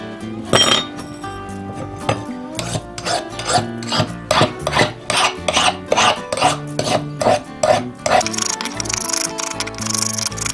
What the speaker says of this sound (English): I'm just checking here now, just a file test to see